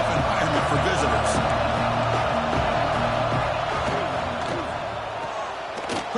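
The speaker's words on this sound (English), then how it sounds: "Listen to the crowd energy here in the early going" Dense stadium crowd roar from a college football video game, a steady loud wall of cheering and noise that fills the whole clip with little letup.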